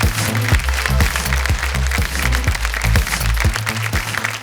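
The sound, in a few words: round of applause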